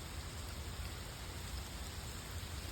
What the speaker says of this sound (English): So getting hit with a little rain, Louisiana rain.